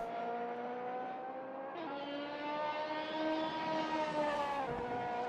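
A GT3 race car in a video game lapping Donington on a flying lap, its engine note climbing steadily through the gears with sharp shifts and a drop in pitch when braking, loud and continuous.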